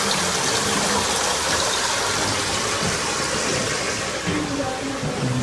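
Spring water flows steadily beneath the Church of the Annunciation in Nazareth, a constant rushing gush that fills the space at an even level, with faint voices now and then.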